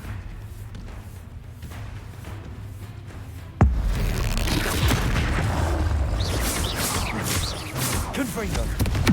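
A sudden blasting-spell explosion from a Hogwarts video game hits with one sharp boom midway, then a loud roaring rumble and crackle continues, a voice calling out beside it.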